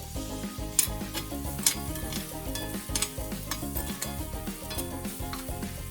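Egg frying in a pan seasoned with salt, chili flakes and pepper, giving a steady close sizzle with light scraping and tapping of a utensil throughout.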